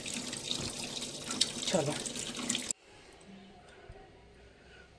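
Water running from a household tap into a container for filling, a steady broadband rush under a voice that cuts off abruptly partway through, leaving a quieter room with faint knocks.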